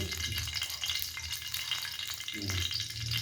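Hot cooking oil sizzling steadily in a pan while preparing stir-fried liang leaves with oyster sauce, a continuous close crackling hiss with faint low clatter underneath and no voices.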